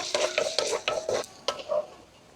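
Ham goes into a pan of oil and butter for carbonara, with rhythmic scraping stirs over a light sizzle, close up and with no voices.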